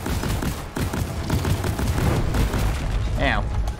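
Rapid bursts of semi-auto rifle fire crackle in Deep Rock Galactic, mixed with booming impacts and chaotic battle noise, dense and loud throughout, with a voice talking over it.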